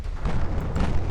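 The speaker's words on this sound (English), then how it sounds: "torpedo launch" A torpedo launch in the naval warship game Ultimate Admiral Dreadnoughts, a deep, sustained booming rumble that stays loud and dense throughout the short burst, with no pauses.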